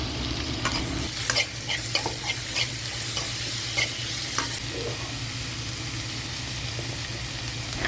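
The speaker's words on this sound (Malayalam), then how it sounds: "അതും ഇതുപോലെ തന്നെ ഉപ്പും ഇട്ടിട്ട് നല്ലതായിട്ട് വഴറ്റിയെടുക്കണം" Two tomatoes with salt are sautéed in a pan for a vendakka puli kulambu, steady frying hiss under a rhythm of stirring scrapes that fade after a few seconds, leaving only the sizzle.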